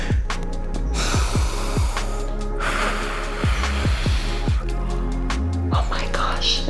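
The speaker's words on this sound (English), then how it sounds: "I can't talk, I gotta breathe" Heavy, rhythmic breathing from someone straining through an at-home dumbbell leg workout: close, loud puffs and snorting exhales repeating every second or so, with breathy gasps in between.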